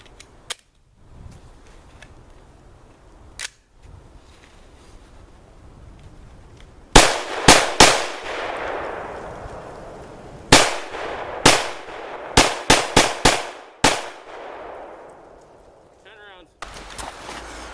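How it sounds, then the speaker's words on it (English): AR-15 rifle fired outdoors with a 10-round magazine, the sharp reports loud and close: a lone early crack, then a burst of shots around the middle, each followed by a short echo decay. "I'm going to be firing the ar15 by Alex Pro, 10 round mag."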